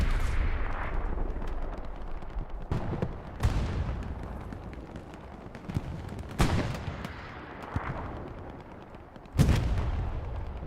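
In the Hell Let Loose video game, a bombing run sets off a series of loud explosions, several sharp heavy blasts spaced a few seconds apart over continuous rumbling battle noise and scattered distant gunfire.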